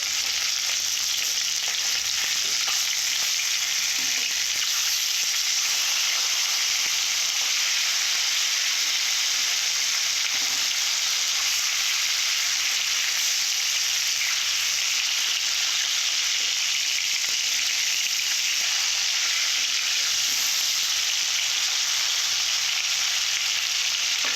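Tengra fish frying in oil under a lid, a loud continuous hissing sizzle holding steady and close throughout, with no talking.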